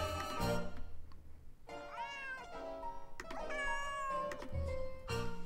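Yuri the cat in the video game Nancy Drew: Secret of the Old Clock meows insistently, a string of loud, close, wavering yowls coming one after another with short gaps, no talk.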